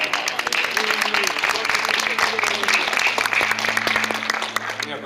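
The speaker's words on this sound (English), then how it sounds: "So how about a round of applause for the Applebaum Foundation?" An art-event audience applauds in an indoor hall, a dense, steady round of clapping that carries on evenly for several seconds.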